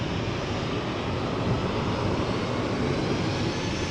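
Boeing 737-800 jet airliner flying for TUI at Amsterdam Schiphol gives off a steady, loud, broadband engine roar, close by and unbroken, heard alone without talk.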